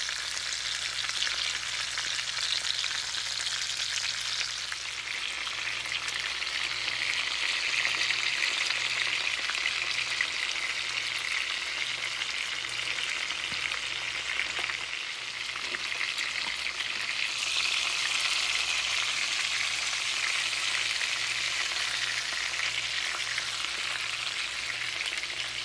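Food browning in a hot frying pan gives a steady, dense sizzle and crackle that carries evenly throughout, with a faint low hum underneath and no talking.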